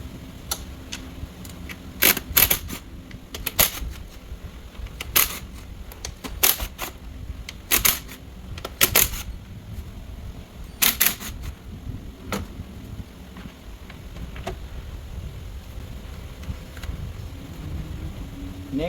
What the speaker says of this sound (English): I'm going to use a 7 millimeter deep socket to remove the screws for the intake